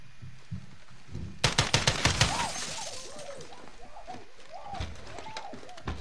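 Shotgun blasts from Call of Duty: Modern Warfare (2019) campaign, fired in a bathroom: a rapid burst of about six loud, sharp reports in quick succession, followed by quieter in-game clatter and rumbling.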